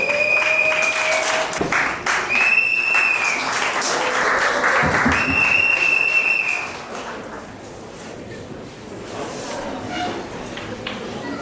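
Guests at a civil wedding ceremony applaud loudly as the civil registrar enters the hall, with sharp whistles and shuffling over the clapping, which fades after several seconds into quieter room noise and murmuring.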